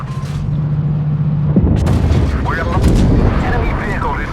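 A tank cannon blast and explosion in WoT Blitz, with a low steady engine hum giving way to a sudden loud boom and crackling battle noise, with game voices and effects over it.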